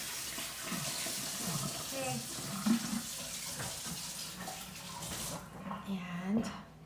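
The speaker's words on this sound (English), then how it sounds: "Let me wash my hands" Tap water runs steadily from a faucet as hands are washed, a continuous close hiss with faint splashes and a voice talking under it.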